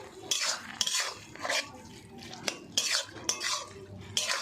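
Small fish and pipli greens being stirred in a pan, with repeated loud scrapes and clinks of a utensil against the metal at an uneven rhythm, close up and without talk.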